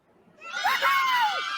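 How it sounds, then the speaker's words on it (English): A pitched-up Wilhelm scream sound effect, a single shrill, swooping cry rising then falling, loud and alone against silence. "I took the Wilhelm scream and high pitched it."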